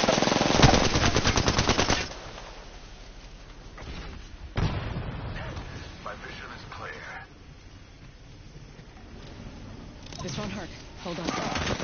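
Rapid automatic gunfire from an Apex Legends match, loud and dense at first, then sporadic shots and game effects with a brief lull before firing picks up again.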